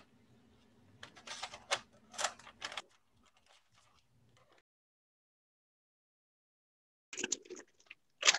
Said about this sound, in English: find where the corners are and just do rough cuts with some kitchen shears